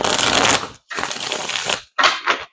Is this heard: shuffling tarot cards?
yes